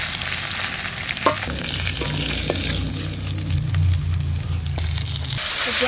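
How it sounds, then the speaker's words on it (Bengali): Climbing perch (koi) fish heads fry in hot oil, a loud close sizzle with crackling spatters and occasional stirring, steady throughout with no talking. "মাথা কটা আগে ভেজে নিচ্ছি"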